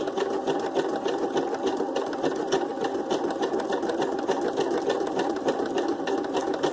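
A sewing machine stitches decorative stitches on tags and ephemera for junk journals, a steady loud mechanical whir with rapid rhythmic needle chatter running continuously throughout.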